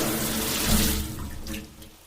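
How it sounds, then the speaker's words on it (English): Shower water running steadily, a close, moderately loud hiss and splash of spray that swells briefly and then eases off, with no talk. "shower"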